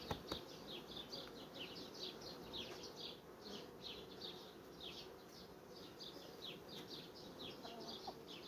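Honeybees hum inside the hive of a large queenless colony, a steady, dense, close buzz that holds for the whole stretch, with faint high chirps flickering above it.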